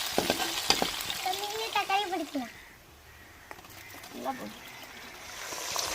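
Onion, green chili, tomato and ginger paste sauté in oil for potato rice, a soft crackling sizzle running quietly beneath a person speaking.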